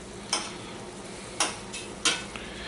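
Shrimp cooking in a pan over high heat, with a soft steady sizzle and a few brief scraping stirs spaced across the moment, fairly close and moderately quiet.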